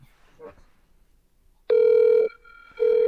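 A telephone rings twice during a prank phone call, with long electronic ring bursts separated by a short pause after some faint speech at the start.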